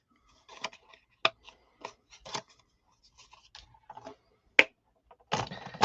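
Scissors cutting paper around a template, sparse separate snips and rustles heard close up in a quiet room, with no speech.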